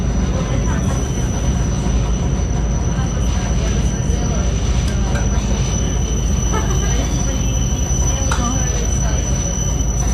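Loud, steady rumble of a suburban electric commuter train rolling on rails between Kupchino and Pushkin near St Petersburg, with faint wheel squeals and clatter, muffled voices underneath.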